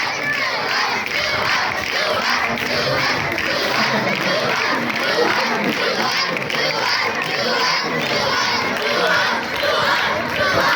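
Students at an annual school sports ceremony cheer and shout together, a dense continuous roar of young voices with scattered claps, loud and sustained throughout.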